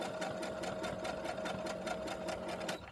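A sewing machine stitches a ruffle in a steady, rapid mechanical chatter with even, evenly spaced pulses, close and fairly quiet, stopping right at the end.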